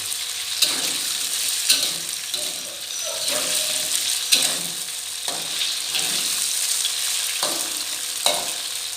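Tofu frying in oil in a pan, a continuous close sizzle broken by regular spatula scrapes and knocks as the pieces are stirred.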